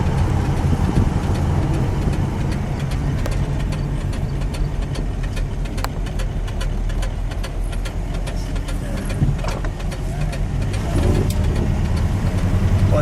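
A black 1964 Chrysler 300K coupe survivor idles with its NASCAR-inspired V8, a steady, low, burbling rumble heard up close and continuous throughout.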